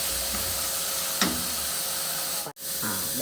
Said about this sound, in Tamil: வெங்காயம் கொஞ்சோண்டு உப்பு கலந்து வேக வச்சுக்கிடுவோம்